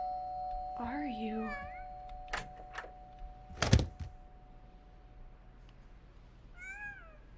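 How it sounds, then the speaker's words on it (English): A cat in a horror game gives a wavering meow, then a door thumps and bangs, and a shorter meow follows near the end. The sounds come against a quiet, humming backdrop. "Did I just hit the cat with the door?"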